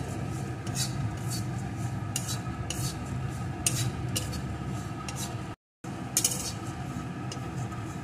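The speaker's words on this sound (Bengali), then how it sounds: "এখন ওটসটাকে অল্প আছে এইভাবে নাড়িয়ে নাড়িয়ে লাল লাল করে ভেজে নেব" Oats stirred and dry-roasted in a pan, producing a continuous close scraping and rubbing with rhythmic strokes, briefly interrupted by a moment of silence.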